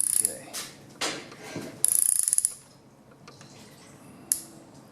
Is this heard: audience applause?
no